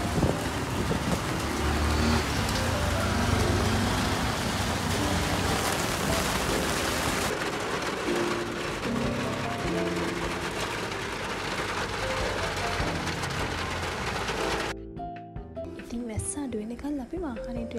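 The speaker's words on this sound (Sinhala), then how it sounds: "ටිකක් වෙලා යනකොට ආයෙමත් වහින්න ගත්තා" Rain falls again on a rainy day, a continuous dense hiss that fills the scene and shifts abruptly near the end.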